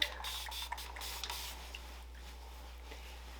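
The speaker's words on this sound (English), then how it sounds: "I'm going to spray mine with just a little water like I always do." A few quick spritzes of water from a spray bottle onto a synthetic wig, close by and fairly soft, followed by a quiet hiss fading out.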